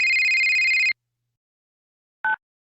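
Phone ringing in a DDLC mod visual novel: a loud, clean electronic ring tone lasting about a second, then silence and a short second chirp of the ring.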